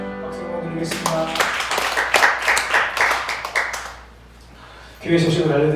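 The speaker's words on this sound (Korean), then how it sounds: "박수 한번 드리겠습니다." A church congregation at a Sunday worship service breaks into a burst of clapping applause for a few seconds, preceded and followed by a voice speaking over a sustained tone.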